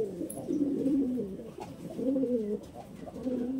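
A male Kaldom pigeon coos steadily and close by in a low, rolling, repeated burble, with a pair held together in a breeding setup and no people talking.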